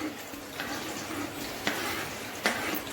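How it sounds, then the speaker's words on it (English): Finely chopped onions hit hot oil in a pressure cooker, making a continuous, moderate sizzle with a couple of sharp clinks from stirring. "The oil heats up, add finely chopped onions to it."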